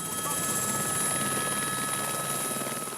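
A helicopter's steady rotor drone and engine whine fill the air over the Swiss Alps near the Aletsch glacier, constant and fairly close, with no voices.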